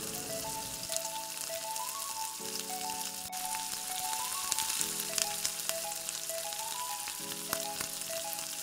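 Tomatoes sautéing in a frying pan for dilis, a steady bright sizzle and crackle throughout with soft stirring, close up, over quiet background music and no speech.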